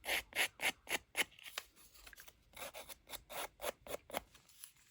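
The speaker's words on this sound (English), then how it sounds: "get the scissors to do" Scissors snip paper for a junk journal tag, giving a quick series of close, crisp cuts in two rhythmic runs with a short pause between them.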